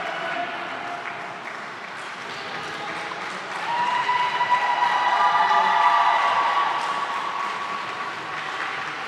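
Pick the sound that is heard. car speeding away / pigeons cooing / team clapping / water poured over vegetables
team clapping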